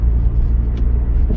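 An MG TF 135 sports car on a test drive gives a steady low engine and road rumble from inside the cabin, continuous and even for a short stretch with no voices.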